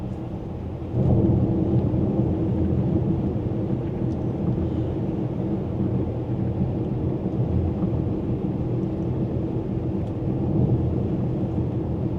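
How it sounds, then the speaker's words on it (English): Steady broadband road and wind noise inside a ZEEKR 7X Performance SUV with air suspension, cruising at 100 km/h on the M2 highway in Sydney, a continuous low rumble with no voices. "There is minimal cabin noise, I can tell you that now, on the M2 highway."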